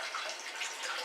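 Steady rush of tap water running over a parsnip being rinsed in a kitchen sink, continuous and fairly close for about a second, with no voices.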